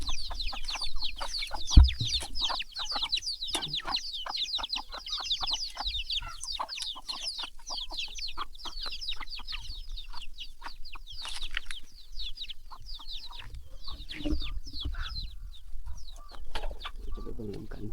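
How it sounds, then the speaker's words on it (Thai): Chickens clucking around a small backyard coop in a rural Katu village in Laos, with steady close clucks and chirps, some scattered bird calls, and light movement noise throughout. "อันนี้ก็บอนเลี้ยงไก่ของเขา"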